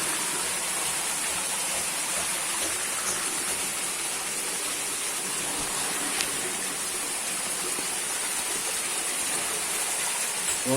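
Water flows steadily at the Trou du Moulin, a cave site, as a dense, even rushing hiss that continues without a break.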